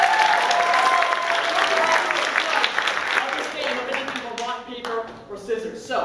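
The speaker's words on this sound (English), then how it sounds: "Everyone applaud for Hello." An audience at a Halloween improv comedy show applauds, a steady loud wash of many hands clapping that thins and tapers toward the end, with some voices mixed in.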